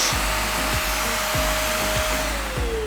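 A loud, steady jacuzzi pump motor hum with a whining tone, pulsing in a regular rhythm about every half second, close and continuous.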